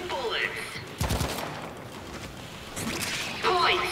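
Gunfire trades back and forth in a Warframe Glast Gambit mission: loud, rapid bursts of shots and sharp cracks layered over game effects and ambient rumble, with a fresh volley near the end.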